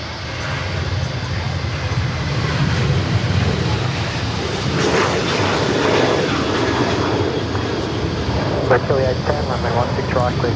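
Velocity flight 1419 roars on departure from Sydney Airport bound for Cairns, a loud, sustained jet engine noise with wind buffeting, while a person talks over it throughout.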